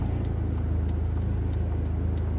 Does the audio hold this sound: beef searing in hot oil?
no